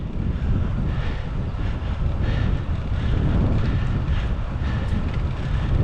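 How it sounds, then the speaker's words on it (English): An easterly headwind buffets a cyclist's microphone on a ride out from east London toward Essex, a loud, continuous low roaring rumble with gusty surges and no speech. "There's an easterly wind this morning which works quite well. It's on my face at the moment."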